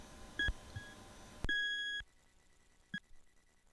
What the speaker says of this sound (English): A metal detector is just that. It detects metal.